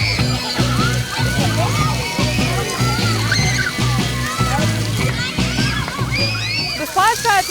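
Steady sloshing and splashing of water falling from fountain heads at a park splash pad during its grand opening, with children's voices and chatter mixed throughout and a close voice talking over it.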